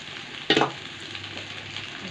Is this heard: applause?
no